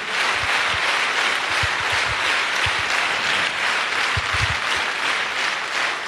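A church congregation breaks into sustained, loud applause, a thick continuous wash of many hands clapping, with some low thumps scattered through it and no talk on top.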